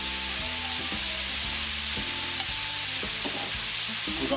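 Ground meat for shepherd's pie sizzles loudly in a hot pan while a utensil scrapes and breaks it up in repeated strokes, the steady frying hiss continuing throughout.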